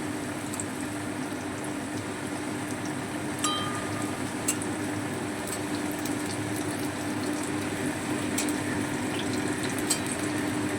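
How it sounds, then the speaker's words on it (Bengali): Potatoes frying in oil, a steady, soft frying hiss with faint crackles, continuous and even throughout, at moderate distance with no voices. "সমস্ত আলুগুলো লাল করে ভেজে নেব"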